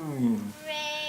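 A cat meows once as a sound prompt in a listening game for three-year-old children, a short rising and falling call standing alone.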